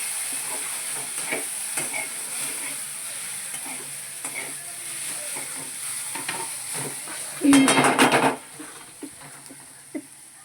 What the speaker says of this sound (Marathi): मग आपला बटाटा असा छान फ्राय होतो